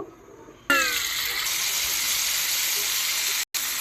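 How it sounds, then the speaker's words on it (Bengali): Fish dropped into hot oil in a cooking pot sets off a sudden loud burst of sizzling that settles into a steady, bright frying hiss, with a brief cut near the end. "এই পাতিলেই মাছ ভেজে নেব"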